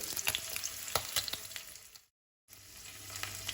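Paneer pieces sizzle and fry in a pan until golden, a steady close crackle with small pops, broken by a brief silent gap before the frying resumes.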